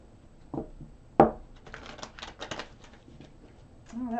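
Tarot cards shuffled by hand: a few quick riffles and slaps, with a sharp snap near the start followed by a rapid patter of flicking cards, close and fairly quiet, with no one talking.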